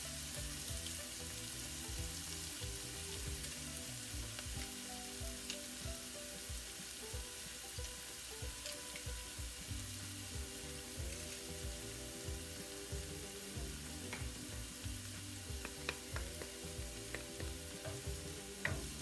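Onions sautéing in a pan for a Mexican-style dish of zucchini with ground beef, a soft continuous sizzle with occasional stirring ticks, under quiet background music and without talk.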